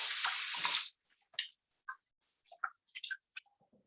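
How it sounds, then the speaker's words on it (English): Running tap water splashes loudly over a hand for under a second, then stops, followed by scattered soft drips, clicks and small handling sounds in a quiet kitchen during a cooking class. "Let me just rinse my hand"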